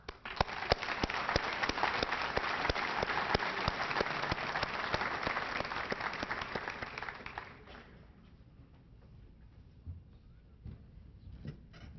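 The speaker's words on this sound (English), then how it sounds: "another well-deserved round of applause" Dense applause from a crowd at an awards ceremony, steady and full for several seconds, then tapering off into scattered claps and room noise.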